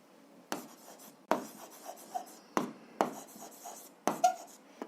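A pen writing down a number on paper, close and quiet, in about five short bursts of scratchy strokes separated by brief pauses.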